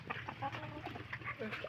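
Chickens cluck on a farm in a quick, busy scatter of short calls, faint and close-mixed over low background noise.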